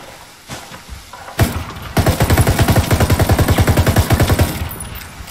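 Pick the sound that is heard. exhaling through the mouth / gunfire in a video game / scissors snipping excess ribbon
gunfire in a video game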